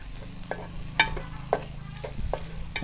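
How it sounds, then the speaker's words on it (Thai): Busy stir-frying vegetables with Chinese sausage fried rice in a wok: sizzling oil under scraping and clattering utensil strokes, steady and close, with no talking. "ผัดไปเรื่อยครับจนผักสุก"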